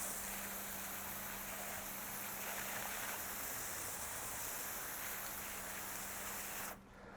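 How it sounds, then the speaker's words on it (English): Water spray rinsing a car wheel rim after an iron remover treatment: a steady, faint hiss of spraying water that runs throughout and cuts off at the end. "Let's rinse it off"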